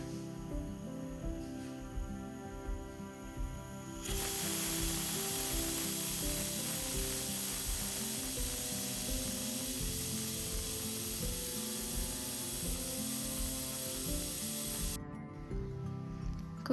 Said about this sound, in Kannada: ಮುಚ್ಚಳ ಮುಚ್ಚಿ ನಾನು 2 ವಿಷಲ್ ಹಾಕ್ಸ್ಕೊತೀನಿ